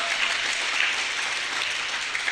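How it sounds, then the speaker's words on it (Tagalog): A church congregation applauds during a midweek worship service, a steady dense wash of clapping filling the room at even loudness, with no talk over it. "Pumalakpak muna sa Panginoon."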